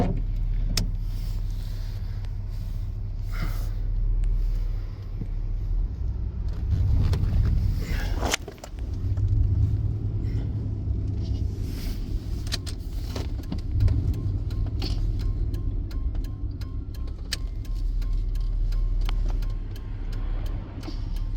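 A 1995 Chevy K1500 pickup with a 5.7 TBI V8 and an idle problem, idling in drive: a steady low engine rumble runs throughout with slight surges and a brief dip, close and continuous, with no talking.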